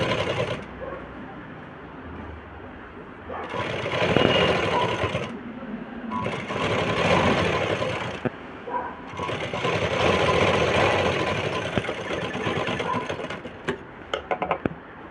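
A sewing machine runs in several bursts while stitching a frock, a steady rapid whirring that starts and stops with short pauses between seams, fairly close and alone.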